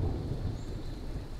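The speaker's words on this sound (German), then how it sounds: "Oh, bitte jetzt kein Gewitter." Thunder from a thunderstorm in the video game Smalland rumbles low and steady, with a wash of rain-like noise, heard alone at a quiet level.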